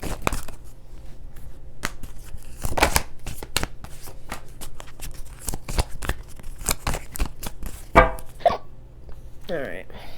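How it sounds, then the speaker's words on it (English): Oracle cards are shuffled for a tarot reading in a dense run of crisp riffling snaps and flicks, with a few sharper clacks and a brief murmur of voice near the end. "then we're going to pull some oracle cards for"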